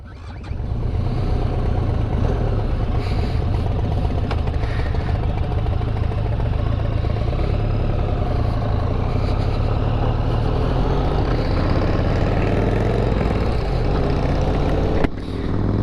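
A Harley-Davidson X500 motorcycle engine runs loudly and close in a continuous deep rumble, holding a steady revving drone through the whole stretch.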